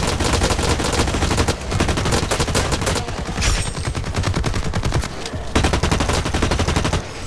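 Close, loud rapid automatic gunfire from a fast-firing weapon in the shooter game Blacklight Retribution rattles almost without a break, with only a couple of brief gaps.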